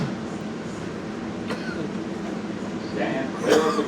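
An R142A 4 express subway train to Bowling Green riding along, a steady rumbling rail noise with faint squeals and a louder clatter near the end, under speech.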